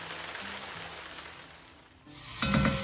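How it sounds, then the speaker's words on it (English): Chopped mirepoix of onion, celery and carrot dropped into a hot pan, breaking into a loud, bright sizzle that swells near the end after a quieter stretch of softer frying. "into that, I am gonna dump some actual chopped mirepoix of vegetables, onion, celery, and carrot"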